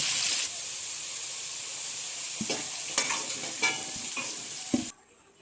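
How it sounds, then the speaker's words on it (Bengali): Halved potatoes coated in salt and turmeric frying in oil, a continuous close sizzle broken by several stirring scrapes and knocks before the sound cuts off abruptly near the end. "এটাকে লবণ হলুদ দিয়ে হালকা করে তেলে ভেজে নেব"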